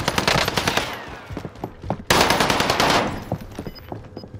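Rapid automatic gunfire in a battle royale video game, bursts of shots coming in quick succession, loud and close, with a brief louder volley midway and no talk over it.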